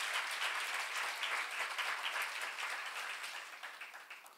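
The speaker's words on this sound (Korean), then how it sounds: "여러분은 참 하나님 조직체인 교회에 들어온 걸 감사 박수 한번 치세요." A church congregation claps together during a sermon, a brisk, even patter of many hands at moderate distance that gradually thins and fades toward the end.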